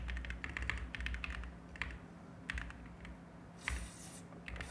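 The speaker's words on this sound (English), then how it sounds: "I thought my typing would be better today, but I'm taking some time to warm up clearly." Quick bursts of keystrokes on a computer keyboard, tapped in uneven runs with short pauses between, close and fairly quiet with no voices.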